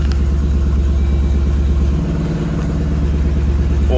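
A Jeep's 6.4L 392 HEMI V8 idles steadily just after starting, following an oil pressure sensor replacement, with a loud, even low rumble and light clatter running throughout, nearby and alone.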